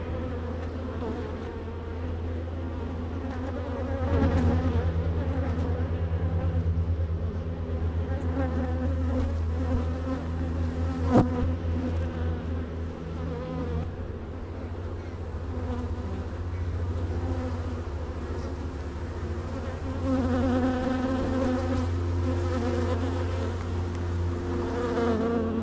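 Honey bees buzz around an open hive during a colony inspection. A dense, continuous drone with layered humming tones swells and eases over the whole stretch, close and without voices.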